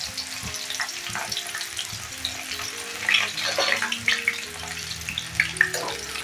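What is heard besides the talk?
jackfruit pieces frying in hot coconut oil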